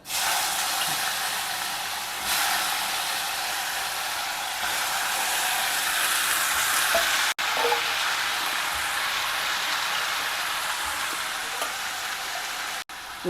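Dals and potatoes fry in a pan, a loud steady sizzling hiss with brief scraping stir sounds, close and continuous.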